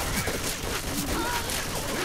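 Gunfire crackles in a chaotic Left 4 Dead 2 versus match, short bursts of shots over a busy, dense game mix.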